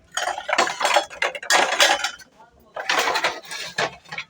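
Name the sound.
washed dishes and utensils being put away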